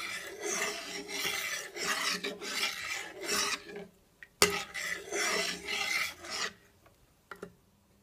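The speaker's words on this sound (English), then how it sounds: "So I'm just gonna stir it, because I want it to full of flavor" A spoon stirs seasoned gravy in a pan for oven lamb chops, making rhythmic scraping strokes in bursts with short pauses and a sharp clink midway. No voices.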